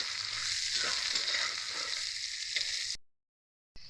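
Chopped onions frying in oil, giving a steady bright sizzle with soft stirring scrapes, close and continuous, then a brief cut to silence before the sizzle returns.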